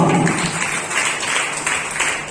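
Congregation applauding steadily during a Telugu church sermon, a dense, loud wash of clapping with no pauses over about two seconds.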